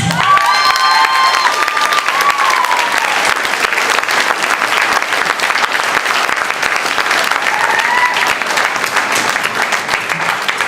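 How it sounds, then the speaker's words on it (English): A large event audience bursts into loud, sustained applause with cheering and a few shouts, a dense wash of clapping lasting the whole stretch. "Another big round of applause for Amy, Chanel, Russell, and James."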